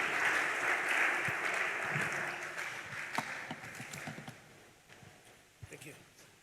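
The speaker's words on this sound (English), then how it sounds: "With a hand of applause, we want to welcome Mr. Isaac Newton Acquah" An audience at a presentation claps to welcome a speaker, the applause starting fairly loud and then thinning and fading into a few scattered claps and faint voices.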